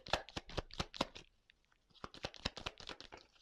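Tarot cards shuffled by hand, a quick run of crisp riffling slaps, a short pause, then another burst of close, fairly soft shuffling.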